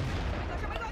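A tank cannon fires in the World of Tanks video game, heard as a dense, loud burst of low rumbling noise that fills the whole brief moment.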